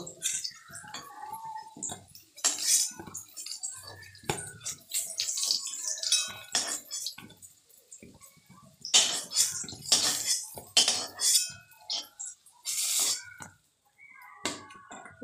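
Fried pieces from two medium eggplants are lifted out of a pan, with irregular metallic scrapes, clinks and clatters of utensil on cookware, some clusters louder, with quiet gaps between; no talk.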